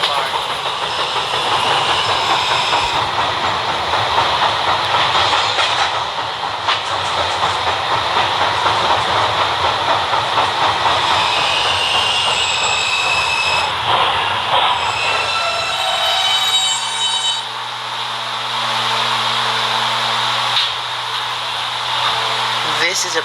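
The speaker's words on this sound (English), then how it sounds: "This is a Peterborough-bound B train." B subway train running on rails, a loud, continuous rumble with clattering wheels and occasional high squeals, easing into a steadier hum near the end.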